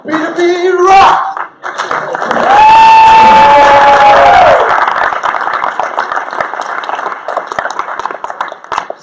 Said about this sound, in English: to get this crowd alive, I need you guys to clap